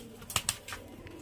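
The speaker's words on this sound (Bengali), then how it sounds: "এই যে দেখুন ফ্রেন্ডস এটা কিন্তু নর পায়রা" Male pigeon kept for flying, a short soft coo with a couple of brief chirpy notes, quiet and close, over faint background noise.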